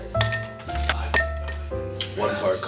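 Three ice cubes clink and rattle against a glass while a White Russian is being made, giving a few sharp bright clinks over steady low background noise.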